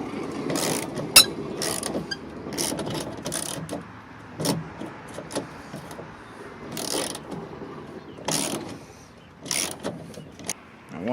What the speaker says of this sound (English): for those 2 bolts, fasteners, we will be using the 10mm Stanley here,